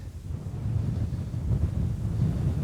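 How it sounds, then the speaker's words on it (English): Steady wind buffeting outdoors on a cold night in upper-20s temperatures, a continuous low roar with microphone rumble and no pauses, loud and close, with nobody speaking. "but this wind is ridiculous"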